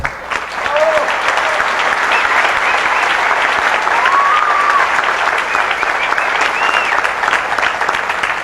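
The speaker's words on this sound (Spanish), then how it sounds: "un fuerte aplauso para él" An audience at a book presentation breaks into loud, sustained applause, dense clapping that fills the room for several seconds, with a few voices calling out within it.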